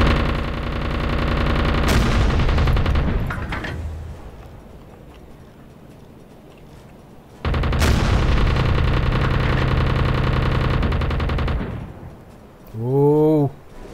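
Deck gun on a U-boat in the UBOAT game firing in two long sustained bursts of heavy, loud booming gunfire separated by a quieter pause, followed by a short rising whine at the end.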